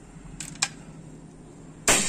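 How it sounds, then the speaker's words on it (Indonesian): A PCP air rifle, a folding big-game model with a 50 cm barrel at 4000 psi, fires one sharp loud crack near the end, preceded by two small clicks over steady background hiss. "Tembakan kelima ya ini ya"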